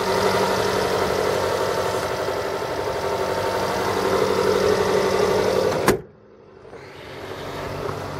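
A 2014 Jeep Cherokee's 2.4-liter engine idling under an open hood, a loud steady hum close by that cuts off abruptly near the end, leaving a quieter rumble that slowly swells back.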